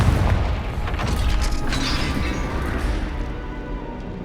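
A Confringo fire-blast spell from the Hogwarts Legacy video game, heard as a loud, booming burst at the start that rolls into a crackling, rumbling tail before fading.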